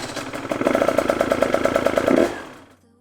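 Off-road motorcycle engine on a newly fitted lithium battery, a rapid even pulsing crank-and-run sound, close and loud for about two seconds before cutting off into quiet.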